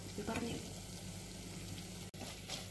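Turmeric and other spice powders stirred in hot oil in a pan while making rambutan pickle, a steady soft sizzle with light scraping of the spoon, close by and alone.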